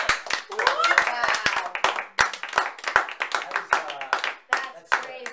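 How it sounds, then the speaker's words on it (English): A small audience in a wine cellar breaks into applause after a close-up magic trick, steady hand clapping with excited voices talking and exclaiming over it, close and lively throughout. "This round of applause is for you guys."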